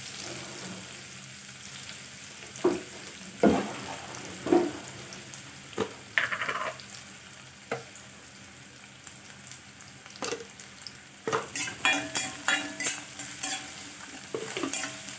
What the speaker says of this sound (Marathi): बारीक चिरून घेतलेले कांदे टाकायचे। छान परतून घेऊया